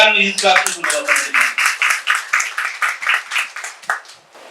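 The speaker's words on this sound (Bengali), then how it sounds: "আমরা একটা করতালির মাধ্যমে" An audience at a Narayanganj Youth Club award ceremony honouring recommended 41st BCS cadres breaks into loud, rhythmic, evenly timed clapping that fades at the end, following a brief spoken voice at the start.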